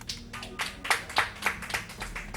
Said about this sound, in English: Don't clap for that fail